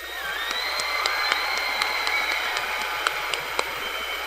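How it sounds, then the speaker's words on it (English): A school auditorium audience applauds ninth-grade scholars at a recognition ceremony, steady sustained clapping and light cheering spread across a large crowd, with a few sharper claps standing out near the front. "Let's give them another round of applause"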